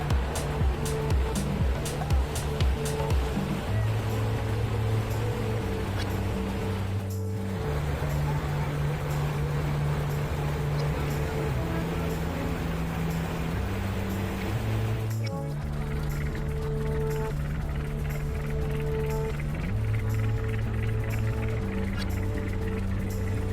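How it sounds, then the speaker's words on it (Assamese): A ship's engine rumbles steadily on the Brahmaputra river, a loud, continuous low drone with shifting tonal hum and wash of water, two brief dips in the middle. "জাহাজৰ ইঞ্জিনৰ গুম গুম শব্দই যাত্ৰাটো বাৰুকৈ ৰোমাঞ্চিত কৰি তুলিছিলে"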